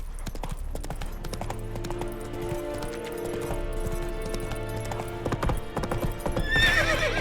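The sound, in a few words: horse Roach galloping, hooves clip-clopping, in the video game The Witcher 3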